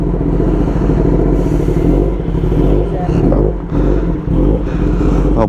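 A Kawasaki Ninja ZX10R motorcycle revs and runs loudly nearby, engine pitch rising and falling in bursts with some clatter, while someone speaks over it.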